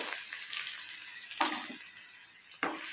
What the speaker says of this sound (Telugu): నూనె కాగిన తర్వాత ముందుగా అల్లం వెల్లుల్లిపాయ మనం దంచుకున్నది వేసుకోవాలి